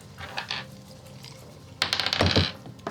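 Dice for a perception check in a Dungeons & Dragons tabletop game clatter on a table: faint early rattles, then a loud close burst of tumbling clicks lasting under a second.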